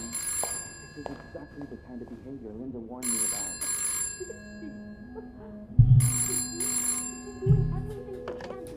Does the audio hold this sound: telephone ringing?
yes